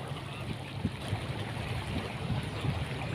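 The strong current of the Palu River rushing at a sharp bend, a steady dense roar of flowing water with low turbulent churning, continuous and without voices.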